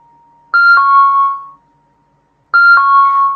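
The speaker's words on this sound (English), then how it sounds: "I'm so sorry about that alarm." Electronic alarm sounding two loud, close tonal chimes, each a short rising ding that settles into a sustained steady tone before cutting off, separated by about a second of quiet.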